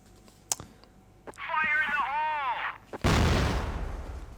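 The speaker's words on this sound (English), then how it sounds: "I know that grenade went off really well" Grenade blast in CrossFire during an esports grand final match: a few faint clicks and shots, a tonal electronic chirp, then a sudden heavy boom that rumbles and fades.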